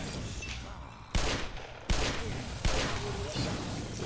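Three sharp gunshots ring out about a second apart in the Black Mesa video game, each a loud broadband crack over steady background game ambience.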